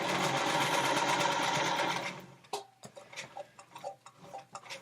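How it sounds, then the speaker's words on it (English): A sewing machine stitches along the corner seam of a fabric bag, humming in a loud steady run that stops suddenly, followed by small clicks and taps as the machine settles. "the first way is very, very simply to sew basically to the end of the first seam"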